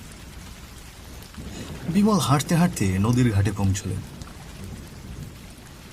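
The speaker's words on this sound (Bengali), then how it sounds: "মাথার উপর অঝোর বৃষ্টি" A heavy storm pours down in a constant roar of rain, with rumbling thunder beneath it, while a voice narrates a story over the top.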